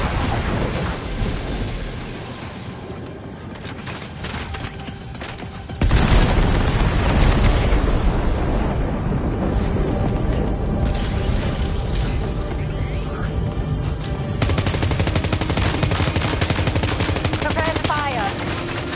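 Gunfire and explosions in the video game Death Stranding 2: dense, continuous booming and rattling shots that swell louder partway through, heavy and sustained, with occasional voices.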